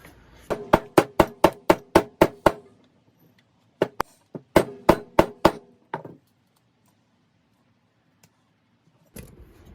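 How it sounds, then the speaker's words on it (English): Bone being cut for hide glue gives a near, loud run of sharp rhythmic strikes, about eight in quick succession, then a couple of isolated hits and another burst of five, followed by near silence. "after cutting that first half of one of the bones"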